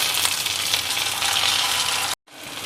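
Chopped tomato and grated ginger fry in a pan with a steady, bright sizzle that holds for about two seconds, then drops out abruptly to near silence before faintly returning.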